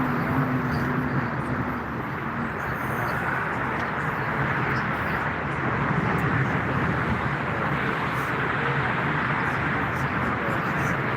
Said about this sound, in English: So from Malta, Lufthansa has arrived. Airbus A321, flight number